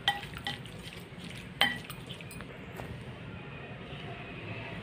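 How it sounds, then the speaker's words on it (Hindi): Salt is stirred into a chicken marinade in a bowl, giving soft scraping and stirring with a few sharp utensil clinks against the bowl near the start. The sound is fairly quiet and there is no speech. "थोड़ा सा नमक डाल देंगे इसमें, मिक्स कर लेंगे इसमें।"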